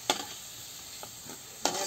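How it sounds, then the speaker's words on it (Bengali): Potatoes frying in oil in a pan until reddish, a soft steady sizzle with a few faint stirring scrapes and clinks near the start and end. "আলুগুলো ভাজে নিচ্ছি এই যে লাল লাল করে।"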